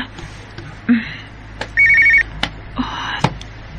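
A telephone rings in a Bisaya radio drama with two bursts of electronic trilling ringtone amid clicks and background studio noise, loud and close, with no talking over it.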